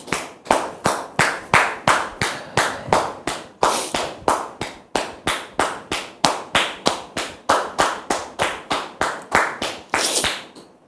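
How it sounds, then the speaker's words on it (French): Rhythmic audience clapping at a French-language church or talk-show gathering, as a guest named Constant is welcomed, sounds as a loud, steady run of sharp unison claps that slows slightly toward the end. "Sous vos applaudissements, s'il vous plaît."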